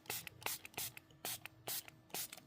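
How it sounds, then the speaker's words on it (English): A spray bottle is squeezed repeatedly, about seven quick, close hissing bursts in a steady rhythm, with short quiet gaps between them. "Spray this side too."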